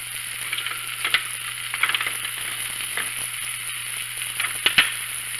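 Pork seasoned with salt and pepper, with raisins, fries in a pan, giving a steady, even sizzle with small crackles and pops throughout.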